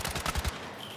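Rapid bursts of SMG fire in the video game Battlefield 6, a few loud close volleys in quick succession that stop partway through and leave a softer, lingering tail.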